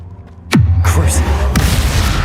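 A spell cast in the wizarding game Hogwarts Legacy strikes with a sudden loud, deep boom, followed by a sustained roaring rumble and a second sharp crack a second later, close and heavy.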